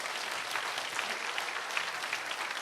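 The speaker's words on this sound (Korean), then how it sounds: "큰 박수로 축하해 주시기 바랍니다" Audience applauding at a Bible-reading course completion ceremony, a dense, even round of clapping filling the whole moment.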